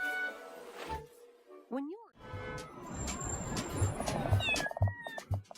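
Kitten meows in the cozy life-sim adventure game Little Kitty Big City, with one clear rising-falling meow amid busy game music and effects.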